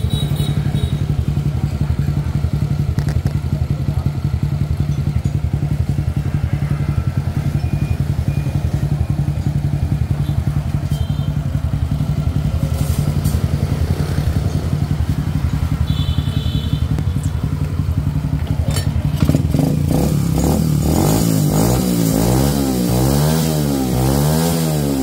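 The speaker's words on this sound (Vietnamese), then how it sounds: "Máy nổ là hơi hám mà cực kỳ lực nha." A Citi 110cc motorcycle engine idles with a steady, close, clattering putter, then revs up near the end in rising and falling surges of throttle.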